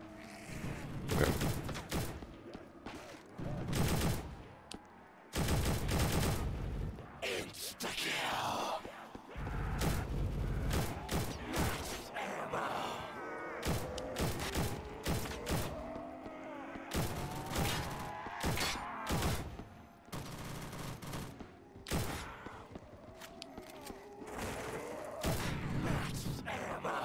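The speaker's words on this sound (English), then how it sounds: "Why are you shooting so much, man?" MG42 light machine gun fired in a zombie survival shooter game, long sustained bursts of rapid gunfire broken by brief pauses, loud and close with occasional thuds and mechanical clatter.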